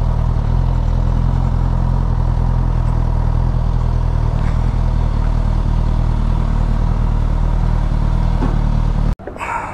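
A motorcycle idles loudly at a roadside fuel station, a steady low engine rumble with a faint clatter, cutting off abruptly near the end before a brief quieter restart of sound.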